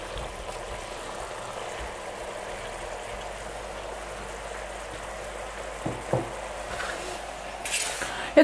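A spoon clinks and scrapes softly against a pot while spaghetti is stirred in boiling water, with quiet bubbling underneath and a few sharper knocks near the end.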